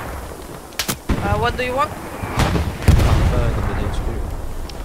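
Heavy gunfire and explosions in the video game Hell Let Loose: sharp loud shots and a big blast amid rumbling battle noise, with a person speaking briefly over it.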